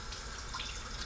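Tap water running steadily while green onion is washed at a kitchen sink, a brief soft continuous splash with no voices.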